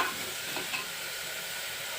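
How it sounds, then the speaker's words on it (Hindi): Tomatoes and potatoes cook together in a pan for a lentil dish, giving a soft, steady sizzle with a faint stir or two, quiet and close. "आलू के संग टमाटर को भी हम अच्छे से पका लेंगे।"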